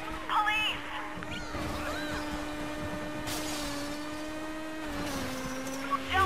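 Kawasaki Ninja motorcycle engine in the Midnight Club Los Angeles racing game holds a steady high whine at speed, with brief shifts in pitch and a faint rush of passing traffic.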